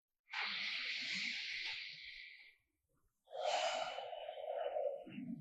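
A transition breath in a Kapalabhati pranayama exercise: two long, close, airy breaths, a drawn inhale then a softer exhale after a short pause, with no talking.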